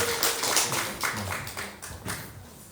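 A church congregation applauds with scattered, fairly quiet claps that taper off unevenly over a few seconds in a roomy space.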